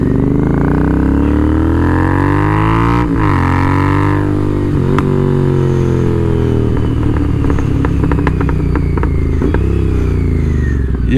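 A Royal Enfield Interceptor 650 with an aftermarket exhaust revs up and down close by, rising and falling in a loud, harsh roar before settling into a crackling, popping idle.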